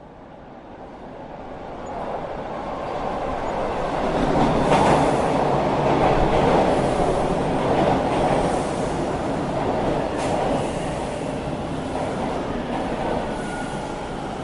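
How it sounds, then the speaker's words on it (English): London Underground train pulling in, a loud sustained rumble and hiss of rolling carriages swelling over several seconds, with faint brake squeal and wheel noise, no voices. "The train hissed to a halt, and he stepped on board"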